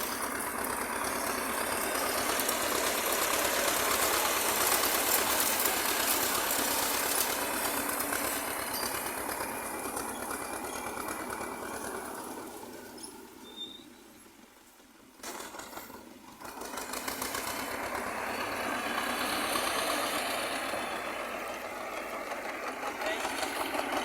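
A homemade tractor built on a T-25 engine runs with a steady, knocking idle through a hay-raking field job, its loud rattling beat dipping briefly midway before resuming, with faint talk underneath.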